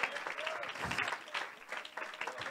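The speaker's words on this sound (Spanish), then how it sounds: "Démele un aplauso al Señor Jesucristo." Congregation applause at a church service, a fairly faint, sustained patter of many hands clapping with brief voices and cheers mixed in.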